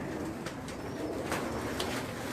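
Pigeons at a breeder's loft coo softly and steadily, a low continuous murmur with faint chirps over it and no voices.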